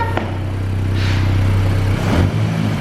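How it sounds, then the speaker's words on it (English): A VW Golf GTI or Audi TT engine idles close by with a steady drone, then a couple of short, light revs rise and fall near the end. "Give it a little rev."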